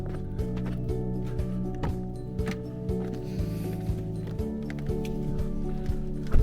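Steady rhythmic hoof clops of a walking horse on a hard surface, mixed with faint mechanical rattling in the background.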